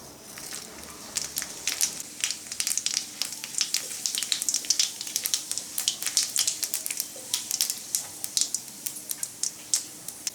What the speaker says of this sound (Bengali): এখন আমি ওই তেলের ভিতরে দিয়ে দেবো জিরা,